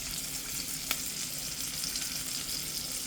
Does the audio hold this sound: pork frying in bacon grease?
yes